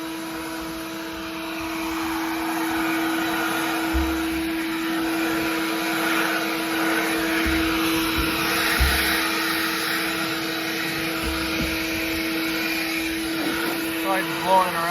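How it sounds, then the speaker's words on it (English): Compressed air blasting bean dust off a tractor cab during the soybean harvest, a steady loud hiss and roar throughout with a constant machine hum underneath and a person talking over it. "I'm trying to blow the bean dust on my cab."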